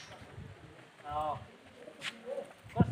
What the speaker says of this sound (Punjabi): ਇਹ ਬੱਚਿਆਂ ਵਾਲੇ ਕਬੂਤਰ ਨੇ ਜੀ